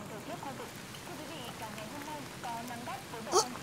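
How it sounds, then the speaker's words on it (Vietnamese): Steady rain patters on surfaces as a constant wash of sound. A voice speaks faintly beneath it, and a brief sharper splash or clatter comes near the end. "Mưa. Mưa bà nội ơi,"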